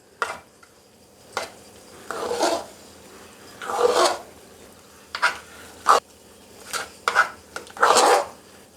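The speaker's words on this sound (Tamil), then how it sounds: "போட்டு நல்லா வெல்லம் கரையிற வரைக்கும் கிண்டி விடலாங்க" A spoon scrapes and stirs melting jaggery in a pan, producing short, close scraping strokes in an irregular rhythm with quiet pauses between them.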